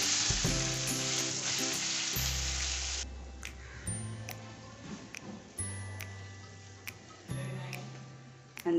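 Chicken frying in a pan with soy sauce, stirred steadily with a utensil: a constant loud sizzle with repeated scraping and tapping strokes against the pan, for a Thai-style fried chicken dish.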